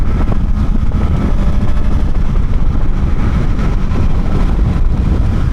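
Suzuki GSX-S 1000 motorcycle riding at highway speed, a steady loud engine drone mixed with heavy wind rush throughout, no voices.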